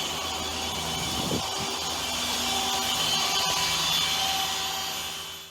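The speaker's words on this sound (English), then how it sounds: "It's having the last buff now" A buffing machine hums steadily while polishing the fabric hood of a Mini Cooper cabriolet, a loud continuous whirr that fades off at the end.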